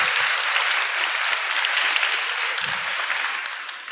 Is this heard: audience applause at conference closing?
yes